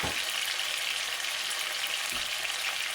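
Chicken pieces frying in a pan for a chicken ramen noodle soup, a steady broadband sizzle holding evenly throughout at close range with no talking.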